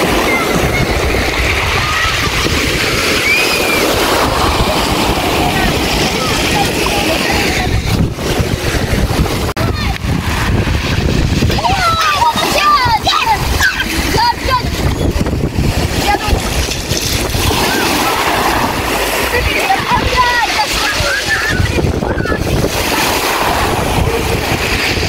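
Waves wash and splash steadily on a Black Sea beach in Crimea at a hotel shore, with gusting wind buffeting the microphone and a person speaking now and then over the continuous surf.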